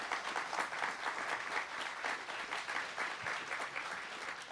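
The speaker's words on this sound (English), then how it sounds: "Let's give him a big round of applause for being here." Quiet room audience at a talk applauds a guest speaker, an even, modest burst of clapping that carries on at steady strength, faint and slightly distant, with no one speaking.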